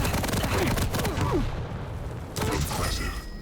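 Video game weapon fire in a fast arena shooter match, with a railgun shot: dense bursts of gunfire and explosive hits, loud and continuous, a brief lull and then renewed firing.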